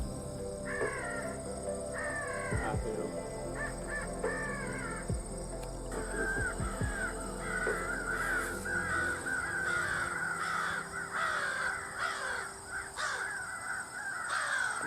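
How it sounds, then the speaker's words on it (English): Several crows caw repeatedly during a crow hunt on public land with a FoxPro electronic game call playing a crow fight, harsh calls in bursts, some close and loud, others farther off, over a faint steady background hum. "we heard a couple crows in the distance, so I turned on the crow fight"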